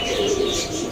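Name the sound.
pigeons cooing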